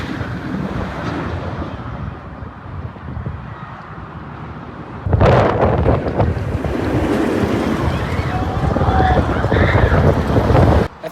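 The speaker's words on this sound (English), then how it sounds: "It's like really windy today." Strong wind at Fun Spot America Atlanta amusement park buffets the microphone in heavy roaring gusts, louder in the second half, with surf-like rushing underneath and a voice faintly mixed in.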